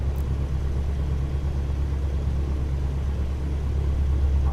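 A light aircraft engine idles just over 1,000 RPM in a flight simulator, producing a steady, low droning rumble that holds even and unbroken throughout, without talk.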